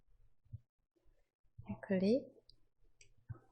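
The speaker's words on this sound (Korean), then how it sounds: "다시 띄우기 위해서는 작업 표시줄에서 클릭, 또 클릭" A few mouse clicks on the Windows taskbar, sharp and close, spaced a second or more apart, with a person talking in between.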